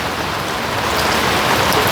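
Summer rain falls steadily beside a pool, a dense, loud, continuous hiss of drops striking water and surfaces, with no voices.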